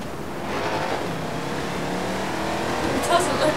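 Car engine in the Forza Horizon 4 racing game, a sustained engine roar that builds slightly toward the end, with someone talking over it.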